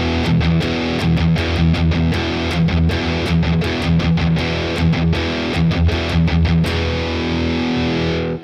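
An electric guitar played through a distortion effect chugs a metal rhythm on a single chord with down-strokes only, loud and thick with sharp repeated muted accents and a brief pause as it ends.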